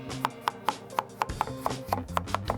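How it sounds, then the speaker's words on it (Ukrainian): A knife chops potatoes into small cubes for a meatless borscht, about a dozen crisp, steady knocks on a cutting board, close and clear with no talking. "Нарізаємо картопельку."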